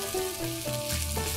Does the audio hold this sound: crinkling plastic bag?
no